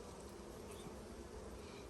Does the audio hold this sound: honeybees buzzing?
yes